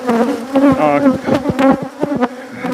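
A swarm of killer bees buzzes loudly around a comb, with dense, close droning whines that rise and fall as individual insects pass near.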